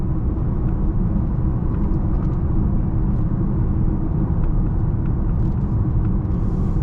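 Continuous low rolling roar from the tires of a Dodge Charger SXT on 22-inch wheels, cruising around 58 mph on a decent road, heard as an even, droning rumble in the cabin without speech.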